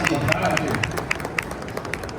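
Audience applause at a business lecture in Brazil, a dense patter of many hands clapping at close range, steady and sustained through the whole stretch with faint crowd murmur beneath.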